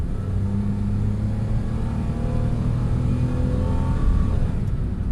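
A Nissan Micra with a CVT gearbox revs hard under acceleration, a loud steady low rumble climbing in pitch, close and continuous with no talking.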